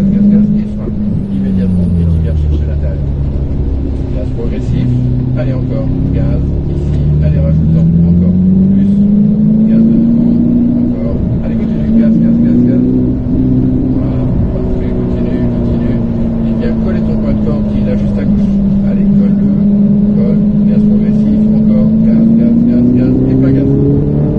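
Ferrari F8 Tributo on the Pont-l'Évêque race circuit, its engine droning and rising steadily through the revs under full throttle for the whole stretch, loud and close, with an instructor's voice talking over it.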